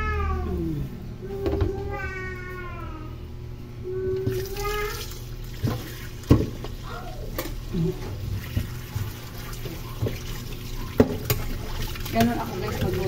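Running water splashes steadily while chicken is washed by hand, with a cat meowing repeatedly nearby and occasional thumps and clatter.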